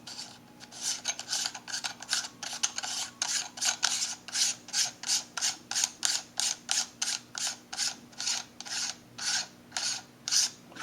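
Close, quiet metallic rasping repeats in a steady series of short turns as a finely threaded metal add-on is screwed onto a Leica X1 camera.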